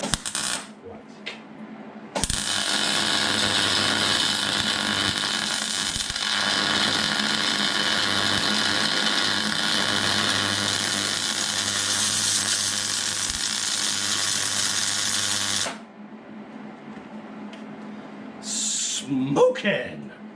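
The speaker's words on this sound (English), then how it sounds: "Welder's been playing up a little bit lately, so let's hope it works." Welder laying a bead on a Mk4 Golf front suspension part, a loud steady crackling buzz lasting about thirteen seconds before cutting off, with brief workshop noises before and after.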